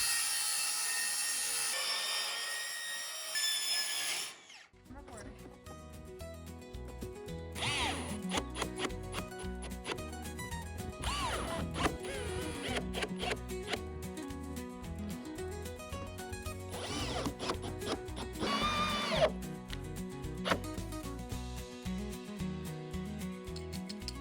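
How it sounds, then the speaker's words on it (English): A circular saw with its blade mounted backwards cuts a metal roof panel on an off-grid cabin, giving a long, loud, continuous grinding whine with a harsh rasp and a steady drone underneath. "you turn your old circular saw blade backwards and it cuts right through"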